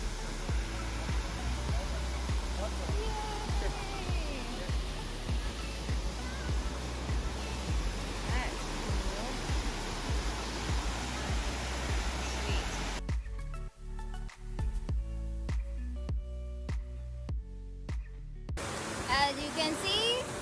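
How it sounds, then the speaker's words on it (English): Waterfalls along Cherry Creek Trail roar as a steady, loud broadband rush of falling water that fills the whole clip, with a brief change in texture near the end as the view shifts closer. "a little bit better view of the waterfalls"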